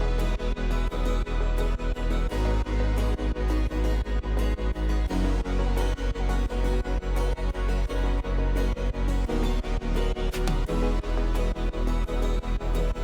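An electronic dance track plays loud and full, with a steady four-on-the-floor kick and snare hits while the dense synth layers pump and duck rhythmically on every beat from heavy sidechain compression.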